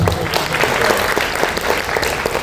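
An audience at a film trailer event for Bank of Bhagyalakshmi claps in a steady, dense wash of applause, close and fairly loud with no clear breaks.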